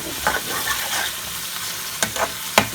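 Chicken tikka achari curry with pickle pieces sizzles in a pan while a utensil stirs and scrapes it, giving steady frying hiss broken by a few sharp clacks against the pan.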